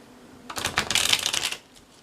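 Tarot cards being shuffled by hand in a quick, close riffling burst of papery flutters lasting about a second, with near silence before and after.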